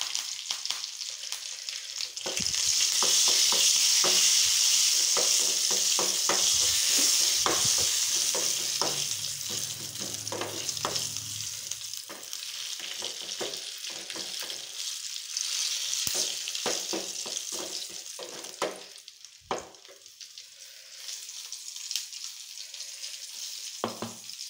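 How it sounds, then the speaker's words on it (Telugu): Crushed garlic, mustard seeds, tempering spices and curry leaves crackle and sizzle in hot oil for a green chilli chutney, loud at first, with a steady frying hiss, scattered pops and occasional stirring clatter. "ఇప్పుడు పోపు వేసుకుందాం"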